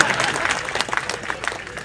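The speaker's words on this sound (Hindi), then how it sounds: "ताली वाली बजाते रहिए" An audience at a Hindi comedy poetry show claps in a brief, lively burst that sounds moderately close.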